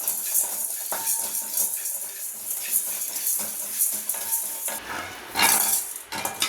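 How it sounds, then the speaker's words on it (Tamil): Fenugreek and spices roasting in ghee in a pan, heard as a light sizzle under repeated close scrapes and clinks of a metal spoon stirring against the pan, with a louder burst of stirring near the end. "வெந்தயம் இதெல்லாம் வந்து வாசனை வர்ற அளவுக்கு நம்ம வறுத்துக்கலாம்"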